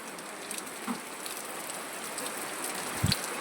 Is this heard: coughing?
no